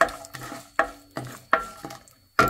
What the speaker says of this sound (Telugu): కట్ చేసి పెట్టుకున్న కాజు వేసుకొని ఒకసారి కలుపుకుందాము